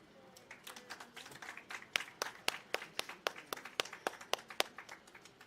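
Sparse clapping from an audience at a police service anniversary ceremony at Camp Crame, heard as distinct individual claps in an uneven rhythm that grows slightly denser, moderately distant and modest in volume.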